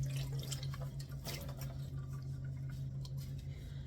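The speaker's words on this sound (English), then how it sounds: "just make sure we squeeze out more of that water" Water dripping and trickling from freshly dyed yarn as it is squeezed out after rinsing, a soft continuous patter with a few splashier bursts and a low steady hum underneath.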